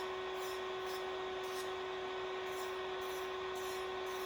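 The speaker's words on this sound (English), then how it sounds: "I mean the barrel drill bit." Electric nail drill fitted with a barrel bit, run steadily at close range with a constant high whine and hum, with short rhythmic bursts of grinding as the bit touches the nail.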